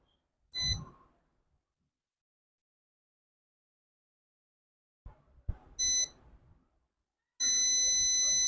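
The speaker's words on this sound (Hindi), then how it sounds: "तो मीटर ऑलरेडी बजर मोड पे है।" A multimeter set to continuity buzzer mode, used while repairing a Redmi 12 phone board, gives a short beep, two more brief beeps a few seconds later, then a loud steady tone that holds to the end.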